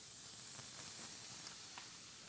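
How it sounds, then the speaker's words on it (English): Fish seared in a very hot skillet gives a steady, fairly quiet broadband sizzle and hiss throughout, with no talking. "Put it in, and we'll get a nice sear going on."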